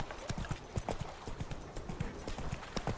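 Hooves of Roach, Geralt's horse in The Witcher 3, pound out a fast galloping rhythm nearby, brisk uneven clops dominating the short stretch with a faint background underneath.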